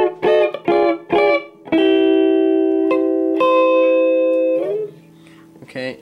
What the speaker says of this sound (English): the last one for today is it's going to sound like this.